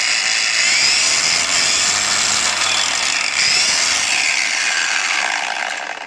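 A budget Leader cordless angle grinder, switched on and running. It makes a loud, steady high-pitched whine up close that holds for several seconds and then starts to fade.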